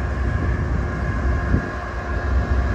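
Former GE AC6000 diesel locomotive, unit 6956, running with a steady loud low rumble and continuous mechanical drone, no pauses.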